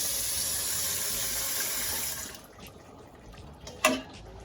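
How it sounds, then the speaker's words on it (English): Water pours steadily into a pot of Jamaican oxtail for about two seconds, then stops, leaving a quiet drip and a brief clink. "I'm gonna add just a little more water to my oxtail"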